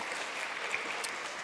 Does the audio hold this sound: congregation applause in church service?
yes